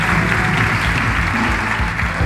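Studio audience at a live talk show applauding loudly, a dense, steady wash of clapping throughout.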